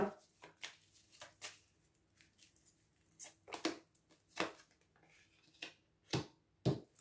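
Tarot cards shuffled and drawn close-up in a quiet room, with a series of sharp slaps and riffling flicks in irregular bursts, including a couple of louder snaps at the end, no talk.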